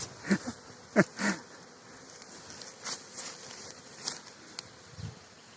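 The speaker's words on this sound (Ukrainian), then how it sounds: "Погода шепче, бджола зразу пішла на обльоти." Carniolan honeybees on orientation flights buzz faintly in the open air at an island mating apiary, a soft steady drone broken by a few brief nearby clicks and bumps.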